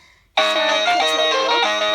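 A 61-key Jwin electronic keyboard plays its built-in demo song, bursting into a bright, busy melody with layered tones, playing continuously and fairly loud.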